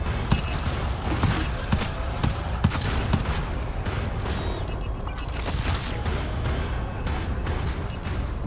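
Rapid gunfire from the co-op horror shooter GTFO, dense bursts of automatic shots with booms packed together at close range, continuous through the whole stretch.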